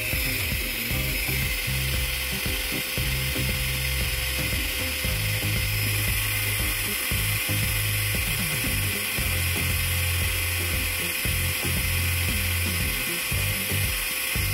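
A small electric manicure drill with a filing bit buffs fingernails in a combined manicure, producing a steady, close, high-pitched whir with faint grinding texture that continues throughout.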